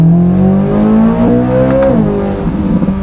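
A 2026 Corvette Z06 3LZ engine revs hard to high RPM in second gear, a loud, close, rising mechanical wail with strong harmonics that climbs steadily for about two seconds and then eases off.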